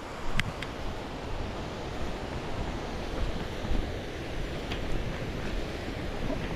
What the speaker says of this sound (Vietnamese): đây chính là thác Nặng Trá nha các bác nhá